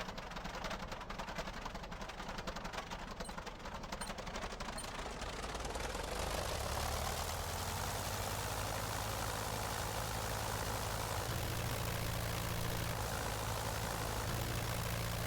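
Simulated Cessna 152 Aerobat piston engine in Microsoft Flight Simulator 2024 drones steadily throughout, swelling from a rough, lower rumble into a louder, full-power buzzing roar after a few seconds, with no talking.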